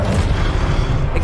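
Confringo explosive spell blast in Hogwarts Legacy, a loud, dense, rumbling burst that fills the whole moment, with no voices.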